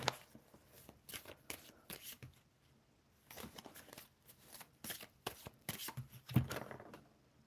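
Tarot cards handled and shuffled close by at low volume, with repeated soft riffling and slapping bursts separated by brief pauses.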